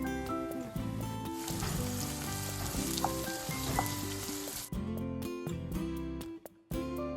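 Long-sliced green chillies frying in hot oil for a chicken fry, a continuous bright sizzle running alone through the whole span and dropping away near the end.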